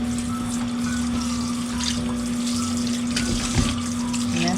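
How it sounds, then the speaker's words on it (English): Tap water runs steadily into a kitchen sink while raw fish is washed for Jamaican steamed fish, a continuous close rushing splash with a faint hum beneath and a brief splash of handling. "We need to wash the fish until the water is clear."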